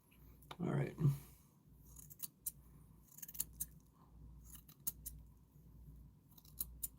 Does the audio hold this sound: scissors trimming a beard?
yes